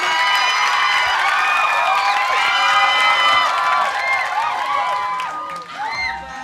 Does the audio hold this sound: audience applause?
yes